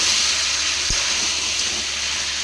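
A spice paste of salt, turmeric, cumin and chilli powder frying in oil in a wok, giving a steady, loud, close hiss throughout with one brief knock.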